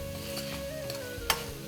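Vegetables seasoned with turmeric and red chili powder are stirred in a pan for a poha dish, giving a steady low sizzle with soft scraping strokes and one sharper clink near the end.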